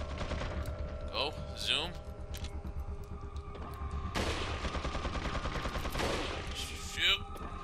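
Bursts of rapid machine-gun fire from an enemy in the video game Resident Evil 4, fairly loud and rattling in clusters, while someone talks over the gameplay.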